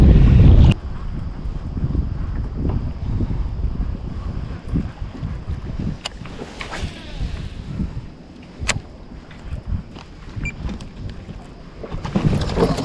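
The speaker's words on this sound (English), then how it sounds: "I really hope this wind isn't affecting the audio" Gusty wind buffets the microphone outdoors beside the water at a fishing tournament, with loud low rumbling bursts that rise and fall throughout, plus occasional light clicks and knocks.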